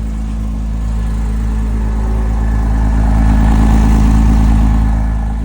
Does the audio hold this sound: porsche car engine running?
yes